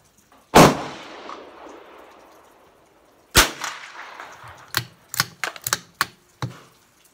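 Savage Mk II rifle shots outdoors, two sharp cracks a few seconds apart followed by a quick irregular burst of several more snappy reports, loud and close with no talk.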